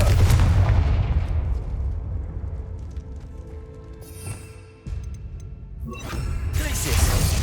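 Confringo fire spell blasts in Hogwarts Legacy, a loud booming impact that decays into a rumble, followed by further sharp bursts and a rising roar near the end.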